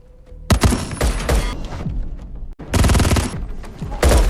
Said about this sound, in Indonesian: Dia segera waspada dan terjadi baku tembak.